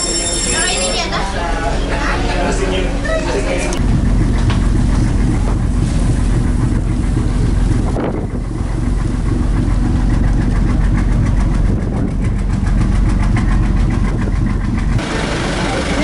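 A steady, loud boat engine drone runs throughout with wind buffeting the microphone, aboard a boat travelling toward Sumbawa, Indonesia.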